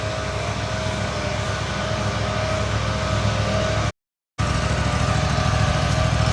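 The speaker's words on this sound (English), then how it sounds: "Oh yeah, they got a team of leaf blowers." Several leaf blowers run together at a steady, loud, constant drone with a low throb, briefly cutting out before resuming at the same level.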